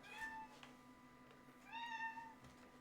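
A cat meows twice indoors, the first call short and the second longer and drawn out, both fairly close against a low steady hum, with no talking over them.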